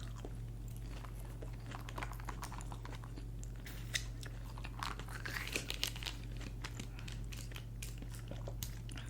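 Chicken nuggets with Chinese sauce are chewed close to the mic, with soft, irregular crunches and wet bites over a low, steady hum.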